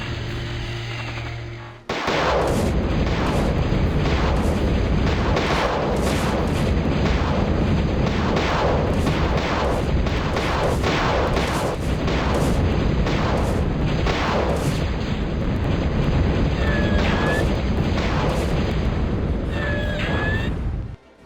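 Plasma battery shells firing in the Total Annihilation mod TAUCP, a dense run of loud booming blasts and crackling explosions in quick, irregular succession over a continuous rumbling battle din, with no talk.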